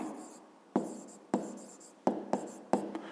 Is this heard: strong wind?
no